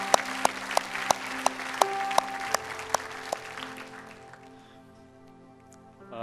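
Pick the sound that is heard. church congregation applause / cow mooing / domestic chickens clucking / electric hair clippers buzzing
church congregation applause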